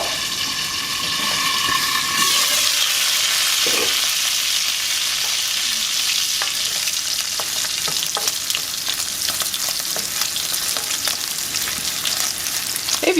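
Bacon fries in an open pan with loud, steady sizzling and crackling that runs continuously for the whole stretch, with occasional sharper pops and no talking.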